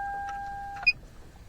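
A car key programmer plugged into a vehicle emits electronic beeps: a steady tone pair for most of the second, then a short bright chirp, quiet and close with no talking.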